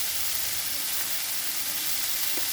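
Green chili paste hitting hot oil in a frying pan with ridge gourd and potato, giving a steady, loud, close sizzle that fills the whole moment without any talking.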